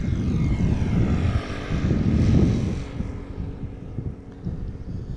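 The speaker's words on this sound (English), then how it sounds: "this is another rental for KLM, Eastern Airways, Embraer 170, arriving from Teesside or Darlington as KLM flight 964" Eastern Airways Embraer 170 jet flying for KLM on arrival at Schiphol Airport, a loud steady engine roar that swells to a peak midway and then eases slightly, continuous throughout with no voices.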